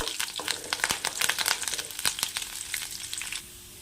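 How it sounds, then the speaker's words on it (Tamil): Garlic cloves and curry leaves frying in hot oil for a potato fry, a crackling sizzle with sharp popping spatters that thin out toward the end, no talking. "பூண்டு ஒரு நிமிஷம் எண்ணெயிலே நல்லா வதங்கட்டும்."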